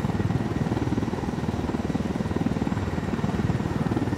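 Helicopter in the video game Ghost Recon Wildlands, a steady loud rotor chop with a dense low engine drone that continues evenly throughout with no talk.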